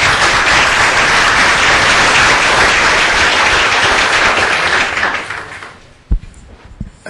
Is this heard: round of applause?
yes